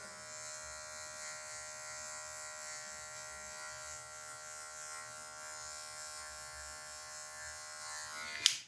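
Electric hair clippers buzz with a steady tonal hum while cutting a low fade, a continuous close drone lasting several seconds that ends with a brief clatter.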